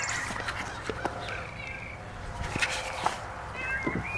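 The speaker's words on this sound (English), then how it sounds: "There's a cat meowing." A cat meows several times, the cries rising and falling in pitch. Faint voices murmur now and then in the background.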